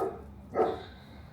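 Neighbor dogs give a couple of brief, distant barks outdoors on a muddy rural property in central California, faint against the ambient background.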